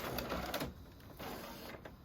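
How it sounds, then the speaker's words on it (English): Inkjet photo printer being opened for a photo black ink swap, a short mechanical whir and plastic rattle, then a quieter steady hum, close and faint with no talk. "So I am going to open up this printer"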